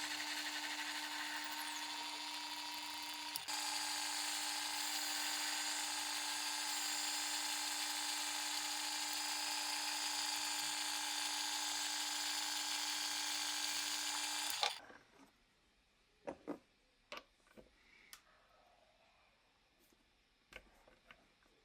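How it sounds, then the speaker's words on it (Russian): A lathe turns a small plug with a thin, rivet-like head for the hole in a homemade clamp frame. A steady, high machine whine runs for about fifteen seconds, then cuts off, leaving scattered light clicks and knocks. "Осталось выточить заглушку на отверстие скобы."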